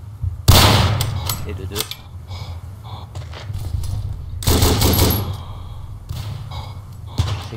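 Rifle shots and machine gun fire in the First World War trench shooter Verdun, two sharp loud bursts with faint pops between, and someone speaking briefly over the gunfire.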